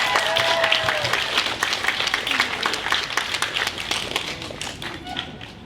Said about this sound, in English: Let's start by giving them a huge round of applause